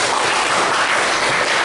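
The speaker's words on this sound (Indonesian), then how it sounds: "Mungkin bisa beri tepuk tangan dan aplaus." An audience at a performing-arts training session claps in a dense, steady wash of applause that fills the whole brief moment at a constant loudness.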